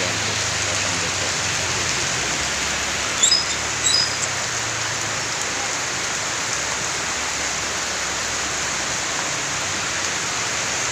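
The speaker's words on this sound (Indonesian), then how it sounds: "Kemudian diguyur hujan." Steady heavy rain pouring down on the town of Tembilahan, a dense continuous hiss throughout with no talk, only a couple of brief faint chirps near the start.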